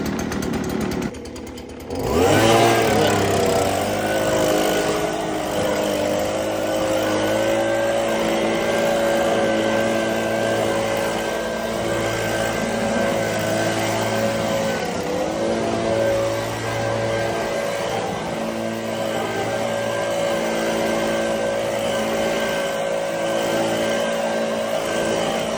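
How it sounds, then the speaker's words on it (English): A Stihl BG86C petrol blower vac starts up and then runs at a steady, loud, droning pitch for a long stretch with no talking, used to clear an old timber deck. "we'll get our trusty steel blower vac, get it started"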